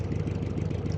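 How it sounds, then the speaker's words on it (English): Naturally aspirated V8 race car engine in the BeamNG.drive driving game, a deep steady rumble with a low throbbing pulse, loud and constant for the whole brief moment with no speech. "This is the V8. Naturally aspirated."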